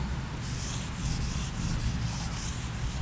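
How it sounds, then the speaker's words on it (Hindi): A duster rubs writing off a board during a maths lesson, a steady, quiet back-and-forth scrubbing swish with no speech. "तो जरा मैं इसको रब कर देता हूँ"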